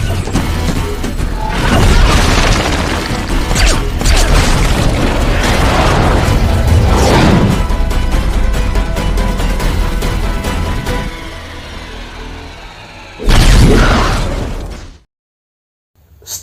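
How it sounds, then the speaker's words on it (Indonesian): A bomb explodes in the sky during a film action scene: long, loud, rumbling blasts with deep booms and crackling debris that roll on for several seconds, then a final burst before sudden silence. "membuang bom yang meledak di langit"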